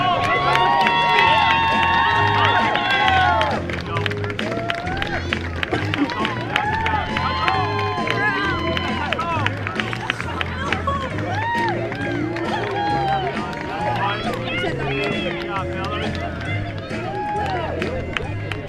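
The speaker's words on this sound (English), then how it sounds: "Let's cheer them on." A baseball game crowd cheers Little Leaguers running the bases, with a loud, steady wash of cheering, shouts and scattered clapping that carries on throughout.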